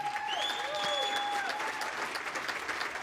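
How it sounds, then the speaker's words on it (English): An audience applauds to welcome two presenters at a vendor education event: steady, dense clapping fills the whole stretch, with a couple of high whistle tones rising above it. "Give a round of applause, please"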